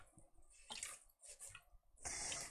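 A sponge being wetted and squeezed in a bowl of water, with soft splashing and trickling in a few short bursts, faint and close, no talking.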